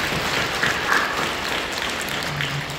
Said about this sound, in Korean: 우리 격려하며 박수해 주시기 바랍니다.